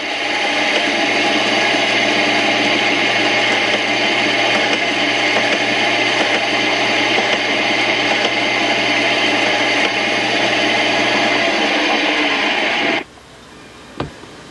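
Countersink bit of 30 degrees cutting into drilled holes while making an adjustable handle, a steady loud whirring drone for about thirteen seconds that stops abruptly, followed by a faint click.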